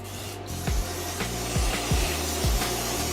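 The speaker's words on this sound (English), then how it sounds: "I got this butter flavored non-stick, you know, spray. So I'm just gonna go ahead and spray it." Butter-flavored aerosol non-stick cooking spray hisses steadily close by, punctuated by a series of soft thumps and shifts as the can moves over a pan.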